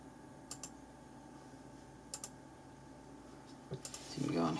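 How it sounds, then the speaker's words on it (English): Faint, sparse keystrokes on a computer keyboard, a few scattered clicks in small bursts over quiet background hum, ending with a brief voice. "you show them how bad you are at typing."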